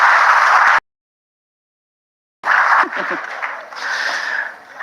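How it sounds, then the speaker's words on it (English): An audience applauding a volunteer, a dense wash of clapping that cuts out abruptly and then resumes with scattered claps and some voices. "Round of applause for my volunteer, please."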